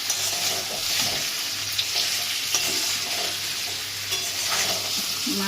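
Large bay leaves spatter in hot oil in a pan with potatoes: a loud, dense, continuous sizzle and crackle with scattered sharper pops, no voices.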